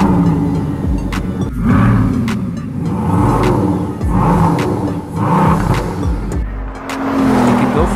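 A French supercar with an 8-liter, 1,200-horsepower W16 engine revs hard and repeatedly, each loud rising and falling surge of engine roar following close on the last, with a brief tire squeal near the end.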